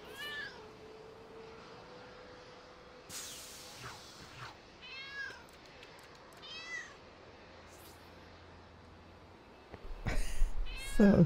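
A cat meows repeatedly in the video game LEGO City Undercover, with several short clear meows spread over quiet game ambience, followed by a louder burst of game sounds at the end.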